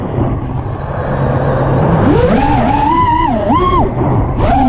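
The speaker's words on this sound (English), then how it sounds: "I'm gonna see how well I can do the stingy loop with the race flight quad" A racing FPV quadcopter flies a loop close by, its motors whining in rising and falling pitch sweeps as the throttle surges, loud and continuous over a rough broadband rush.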